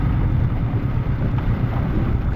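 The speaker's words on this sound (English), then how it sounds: "It's blowing a gale, it's freezing cold" A freezing gale roars and buffets continuously against the microphone on a fishing boat at Lake Bullen Merri, Victoria, a loud, steady rumble with no voices.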